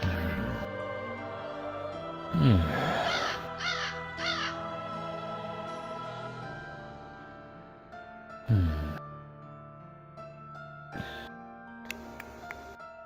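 A crow caws several times, harsh and close, in a few separated bursts spread over a quiet stretch with some background tones.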